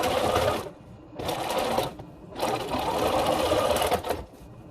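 A sewing machine stitches a fabric face mask in three bursts of steady, close whirring with short pauses between, loud and alone without talk.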